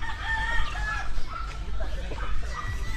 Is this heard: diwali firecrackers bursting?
no